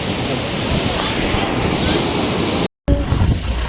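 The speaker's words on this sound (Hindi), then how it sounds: "पहली बार मैंने इतना अच्छा वाटरफॉल देखा है" Kempty Falls in Mussoorie roars loud and steady as broadband rushing water with wind buffeting the mic, and a brief dropout near the end.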